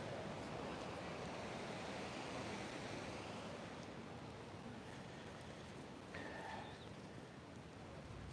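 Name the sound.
ocean waves on the shore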